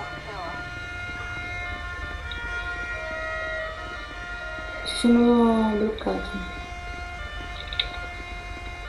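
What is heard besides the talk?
ambulance siren stuck in traffic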